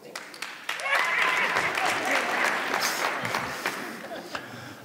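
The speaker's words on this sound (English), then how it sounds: "If you're Catholic, applaud a little bit." A comedy club audience claps for a few seconds, scattered at first, then swelling into moderate applause with some voices among it, before tapering off.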